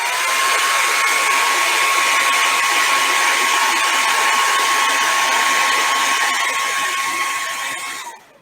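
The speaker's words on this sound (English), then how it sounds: "let me just bring a hairdryer in real quick" A hair dryer blows steadily and loudly, drying contact cement on foam cosplay armor, a constant whooshing hum with a whine that runs for several seconds before winding down at the end.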